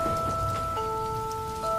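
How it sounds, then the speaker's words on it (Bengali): Heavy cartoon rain pours as a steady hiss beneath sustained musical tones, loud and continuous for a short moment. "আকাশের বুকে ঘন কালো মেঘ জমতে শুরু করে, আর দেখতে দেখতেই কিছু সময় পর থেকেই মুষলধারে বৃষ্টি শুরু"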